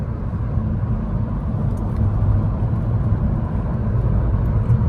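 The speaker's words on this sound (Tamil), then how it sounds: "பின்னாடி ஒரு வண்டி வந்து ஓவர்டேக் பண்ணிட்டு வந்துகிட்டு இருக்காப்புல." A car overtakes from behind on a road in Kuwait, heard as a steady, fairly loud low rumble of engine and road noise that keeps up through the whole stretch, with no voices.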